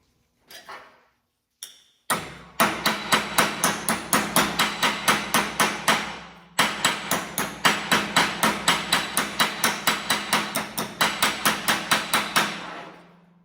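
A hammer tapping out dents and edges on Chevy C-10 sheet metal: a few separate knocks, then a long run of rapid, evenly spaced ringing metallic taps with a brief pause midway, close and clear.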